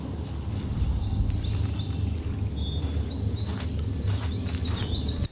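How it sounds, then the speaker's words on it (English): Insects chirping among reeds in a quiet, desolate marsh, a continuous shrill buzzing chorus with scattered higher chirps over a low rumble of background noise, no voices. "You just hear the bugs."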